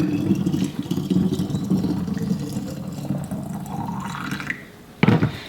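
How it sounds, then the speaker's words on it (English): Boiling water pours from a kettle into glass bottles in a sink, a steady gurgling splash whose pitch rises as each bottle fills, ending with a sharp clink of glass. "the easiest way to get the labels off the bottles is to fill them with boiling water"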